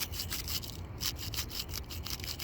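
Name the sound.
wire brush scraping gasket maker off bolts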